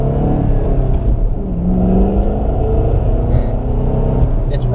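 A Ford Shelby GT500's supercharged engine under acceleration, its blower whine rising over a loud, sustained rumble heard from inside the car, without speech.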